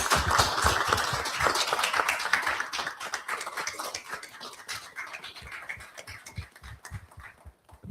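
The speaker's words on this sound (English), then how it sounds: "let's give our speakers a big round of applause" An audience gives the speakers at a talk a round of applause: dense, continuous hand clapping that is loud at first and gradually thins out and quiets toward the end.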